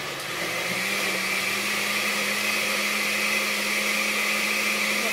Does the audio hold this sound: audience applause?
no